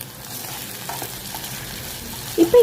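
Onions and tomatoes sauté in a pan for a brinjal gravy, a soft steady sizzle close by ending with a couple of louder spoon knocks against the pan, no talking.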